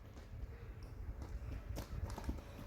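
Hooves of a fast racehorse clip-clop in a quick running rhythm, close and steady across the whole stretch, with no talk over them.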